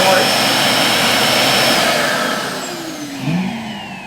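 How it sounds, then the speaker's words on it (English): An iRobot Roomba i6+ dock automatically empties the bin with a loud, steady whirring roar of suction for a few seconds, then winds down and fades with a brief surge near the end. "So that was the sound of it emptying the bin automatically."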